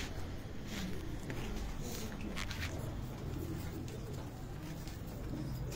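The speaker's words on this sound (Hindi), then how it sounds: "ये कबूतर देखें कसूरी" Kasuri pigeons coo softly at a rooftop loft, with low, repeated murmuring calls set against steady background hiss and a few sharper chirps and rustles.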